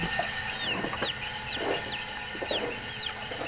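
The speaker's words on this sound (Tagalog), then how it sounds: "may mga manok din dyan" Chickens cluck intermittently at a moderate distance on a farm, over a constant noisy background, with repeated short chirping calls cutting through.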